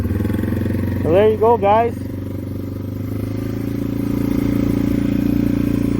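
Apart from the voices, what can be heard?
Yamaha TW200 motorcycle engine starting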